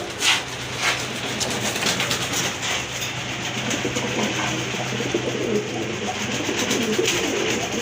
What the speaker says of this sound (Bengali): আরেক জোড়া গোল্লা কবুতর এখানে